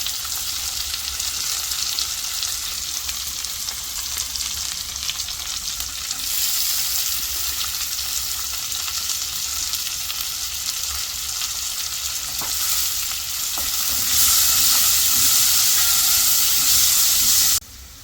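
Shallots and onions sizzle and hiss loudly in hot oil in a pan for a Kerala-style roasted-coconut crab curry, a steady frying roar that swells louder toward the end before cutting off.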